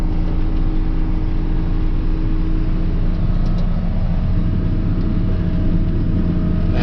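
A John Deere 7600 tractor with a bale wrapper picking up and wrapping a grass bale gives a steady, loud engine drone with a constant low hum and mechanical rumble running throughout, no voices.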